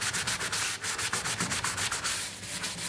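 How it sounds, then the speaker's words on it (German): Carbon fibre side panels for an Audi RS4 are sanded matt by hand in quick, regular back-and-forth strokes, a close, rhythmic scratchy rubbing with no talk. "dann schleifen wir das einmal alles matt"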